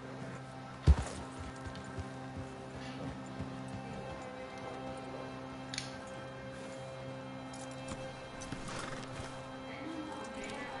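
A horse snorts and whinnies faintly over a steady low hum, with occasional soft hoof clops and small mechanical ticks in a quiet Red Dead Redemption scene.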